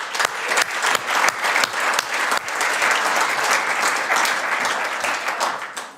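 Dense, lively applause from an awards ceremony audience, continuous clapping at steady volume for the whole stretch, tapering slightly at the end.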